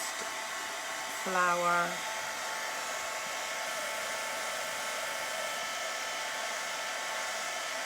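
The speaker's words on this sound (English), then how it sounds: "I'm just going to hover my heat gun over the first" A heat gun on its lowest setting blows steadily over a sheet of vellum, a continuous airy whoosh that fills the whole stretch, with one brief spoken word near the start.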